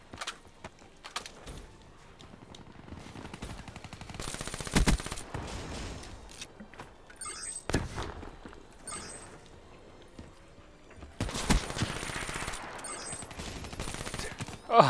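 Gunfire in the Black Ops 3 shooter game, with scattered sharp shots and a couple of louder sustained bursts amid quieter in-game movement and clatter, no talking.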